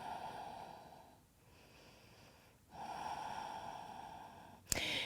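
Audible breathing during a power yoga pose with one leg held elevated: a slow inhale, a pause, then a long exhale, close and soft, ending in a short sharp snort.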